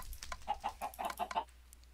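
Chickens in Minecraft cluck in a quick run of short, close, fairly loud calls that fade out toward the end.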